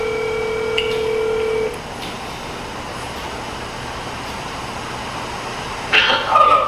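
Telephone keypad dialing tones beep in a quick run of clear tones at the start, then give way to a quiet hiss, with a brief rustle near the end.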